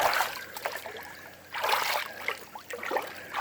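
Hot water splashes and sloshes in a 16-foot outdoor swim spa in continuous close, bright bursts, with a voice briefly heard.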